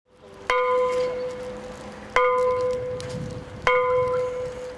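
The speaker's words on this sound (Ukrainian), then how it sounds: "пролунав поминальний дзвін" A deep memorial bell tolls three times at a slow, steady pace at a Chernobyl disaster remembrance, each strike ringing out and fading before the next, with no voices.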